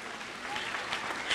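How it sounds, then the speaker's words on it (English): A graduation crowd at the Buffalo Arts Academy claps in a brief, dense burst that holds steady for its whole length. "I want you to clap."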